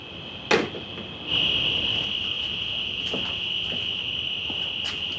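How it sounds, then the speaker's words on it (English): Crickets chirp at night in a continuous shrill trill close by, with a few scattered knocks and taps over it. "I don't know if you can hear the crickets in the background or not"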